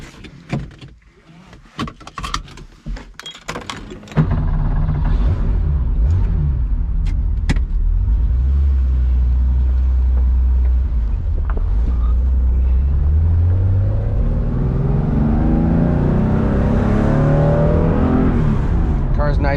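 A 1972 Porsche 911 E with a short-stroke 3.2 engine is heard close up: clicks and handling noises give way to the engine starting, then a steady idle that rises into revving as it pulls away.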